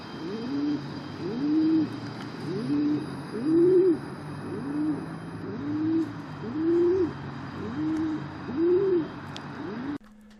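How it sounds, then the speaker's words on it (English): Pigeons coo in a steady repeating rhythm, soft rolling calls about once a second against a constant low background hum, in Chester, England. "this is a pigeon you can see and some you can't see, making noises like pigeons do."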